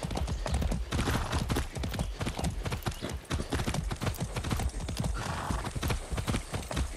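A horse gallops steadily in the video game Far Cry 6, with loud, fast hoof clip-clops running continuously throughout and a brief whinny.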